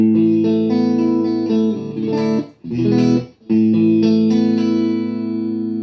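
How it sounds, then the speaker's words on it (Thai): Clean electric guitar chords ring out through a 2005 Fender USA amp with effects off, sustained and full, broken by two brief pauses between strums; no voices. "ปิดดีเลย์ ออกให้หมด นี่คือ นี่คือเสียงตัวแอมป์เบาๆ"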